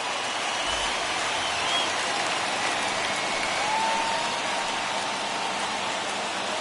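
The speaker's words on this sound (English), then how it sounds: "listen to this crowd now. They are really into this." Baseball crowd cheering during a late rally at a Brewers vs Padres game, a broad, steady roar like heavy rain, with faint scattered whistles and shouts rising above the wash.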